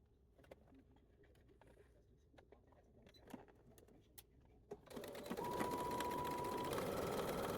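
A sewing machine stitches the interfaced lining for the top of a dress bodice, a steady whirring run that starts abruptly partway through after a quiet stretch of faint ticks and handling sounds.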